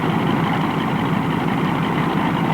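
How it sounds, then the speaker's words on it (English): A North American Aviation aircraft engine runs after starting, a loud, steady, close rumbling roar with no pauses. "hold the starter engaged until the engine is firing smoothly"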